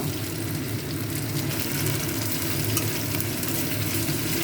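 Onion sizzles in a pan with salt and panch phoron spices, a loud, constant frying hiss with fine crackling and stirring, close up and with no voices.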